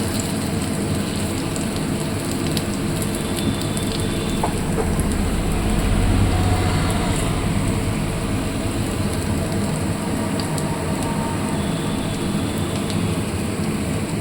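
Coriander leaf and onion fritters fry in a pan of oil, a steady, even bubbling hiss that stays close and continuous without any talking.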